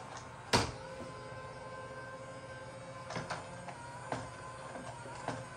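A cheap Wish.com robot vacuum hums steadily at low volume as it runs over a small pile of dirt, with a sharp knock near the start and a few faint ticks and clicks later.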